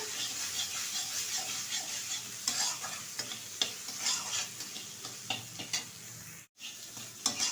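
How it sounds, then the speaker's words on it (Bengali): Chilli powder, turmeric and salt sautéed together in a pan for a rohu fish and aubergine curry, a soft sizzle under frequent spatula scrapes and taps, close and fairly quiet, with a brief dropout near the end. "এবার সবগুলো উপকরণ একসাথে কষিয়ে নেব"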